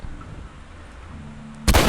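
Gunshot from the video game The Last of Us Remastered: a quiet game ambience with low hum, then a single loud sudden blast near the end that rings on to the finish.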